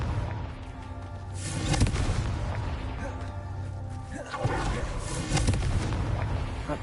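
Confringo blasting-spell explosions in Hogwarts Legacy, loud booming bursts with rumbling, crackling debris, one blast swelling near two seconds and another around four and a half, over a continuous roaring bed.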